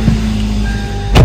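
Inside a parked car, a low steady cabin hum with faint clicks, then a brief electric whir as a power window motor runs near the end; no one speaks.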